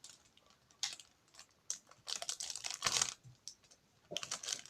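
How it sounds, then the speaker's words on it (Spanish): Scissors snip and crinkle through the plastic packaging of kawaii Pikachu glasses, giving several short bursts of cutting and rustling separated by brief pauses, close and fairly quiet, with no talking. "Esto hay que usar una tijera."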